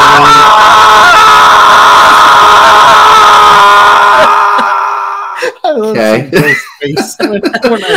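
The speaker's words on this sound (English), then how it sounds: "Just a guy screaming." A man screams loudly and continuously for several seconds in a sustained, strained yell, followed by shorter bursts of shouting and voices.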